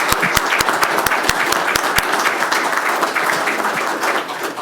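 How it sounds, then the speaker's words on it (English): Room applause at a county commissioners meeting honors a local citizen: a crowd claps steadily, with several loud, sharp claps close by in the first two seconds, then a softer, even wash of clapping. "I recommend that we give her some applause."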